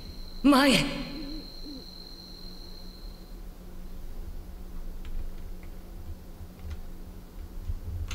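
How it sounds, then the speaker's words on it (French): An owl hoots once near the start in the Demon Slayer Hinokami Chronicles video game, a short wavering call over a faint steady ambient hum and soft ticking. "Que des bruits de chouettes ou de hibou, on sait pas."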